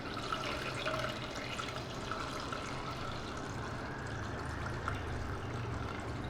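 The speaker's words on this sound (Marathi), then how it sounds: "हा व्हेजिटेबल स्टॉक आपण गाळून घेऊया" Vegetable stock being strained, with liquid pouring in a steady, moderately loud stream that splashes and gurgles without a break.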